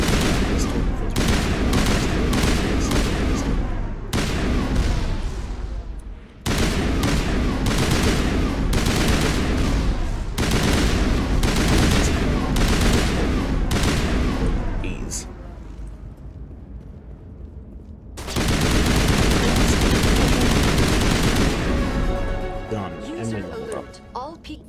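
Rapid assault rifle fire in the Mass Effect sci-fi shooter, loud sustained bursts in quick rhythmic volleys, broken by short pauses and a quieter stretch before another long burst, with a voice talking over parts.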